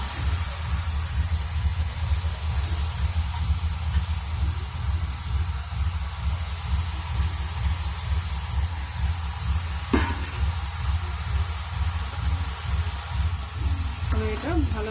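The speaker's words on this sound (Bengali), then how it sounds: "আমি এটা ভালোভাবে নাড়াচাড়া করে নেব" Ash gourd and coconut cooking in a pan under a steady, close frying hiss, with occasional scrapes from stirring and a brief clink near the end. The sizzle stays constant and fairly loud throughout.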